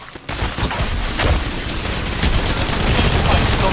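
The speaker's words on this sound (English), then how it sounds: "Taking fire!" Dense, continuous gunfire from a firefight in the battle royale shooter Apex Legends Mobile, loud and sustained throughout, layered over game noise.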